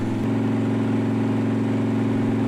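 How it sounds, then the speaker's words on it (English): A Harley-Davidson Twin Cam V-twin motorcycle engine, warmed up and fitted with an S&S oil pump, runs steadily with a loud, even low throb and close, continuous mechanical drone. "Now that the engine is warmed up"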